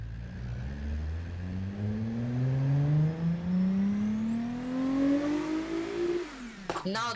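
A 450-horsepower hatchback engine in BeamNG.drive revs up in one long continuous climb, its whine rising steadily in pitch for about six seconds before cutting off abruptly, with a few short clicks following.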